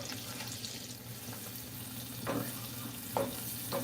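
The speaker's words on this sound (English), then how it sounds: "Stirring." Food stirred in a hot pan with cilantro, steady sizzling frying noise with a few scraping utensil strokes against the pan, close and moderately quiet.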